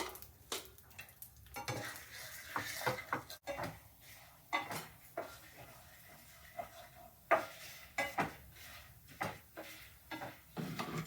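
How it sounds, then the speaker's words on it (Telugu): Peanuts being lightly roasted again in a pan while preparing a curry leaf and drumstick leaf spice powder, with soft sizzling under repeated scraping, stirring taps and clinks of a spoon against the pan. "ఈ వేరుశనగుళ్ళు ఆల్రెడీ నేను వేయించుకున్నవే, మళ్ళీ కొంచెం లైట్గా వేయిస్తాను"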